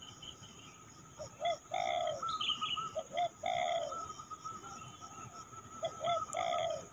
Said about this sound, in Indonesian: ada suara burung perkutut juga.